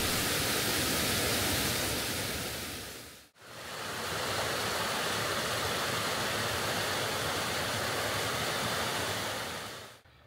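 A waterfall beside a hiking trail in the Smoky Mountains, a loud, dense, continuous roar of rushing water with no voices, briefly dipping once before resuming.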